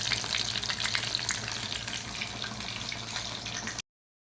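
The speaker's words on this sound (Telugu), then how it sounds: "మటన్ కర్రీ చాలా బాగా ఉడుకుతుంది, ఉడకనియండి." Mutton curry cooking in a pot, giving a steady close sizzle and bubbling that runs without a break for nearly four seconds before cutting off, with no voices.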